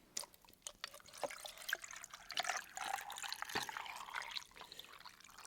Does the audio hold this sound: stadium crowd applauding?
no